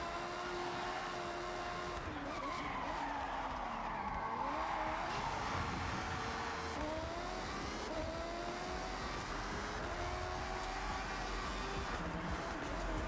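In Forza Horizon 6, a car drives hard with a continuous engine roar that rises and falls through gear changes, with tire squeal and skidding running under it steadily.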